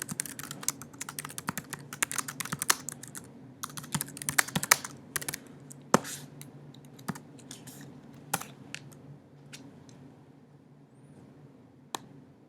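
Typing on a computer keyboard during JavaScript coding, with bursts of quick, close key clicks that thin out into sparse, separate keystrokes toward the end; no voices are heard.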